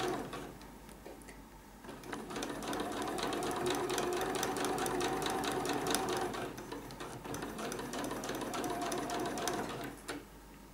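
A sewing machine stitches a seam on a triangle patch pocket, a fast steady mechanical chatter running nearly continuously at close range, slowing briefly near the start and end.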